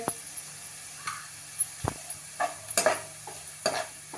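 Chopped spring onion tossed into a pan for veg Schezwan fried rice, with a quiet background sizzle, scattered spatula scrapes and a few sharp metallic knocks against the pan, close and intermittent.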